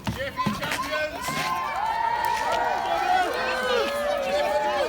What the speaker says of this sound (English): Cheer for your champions!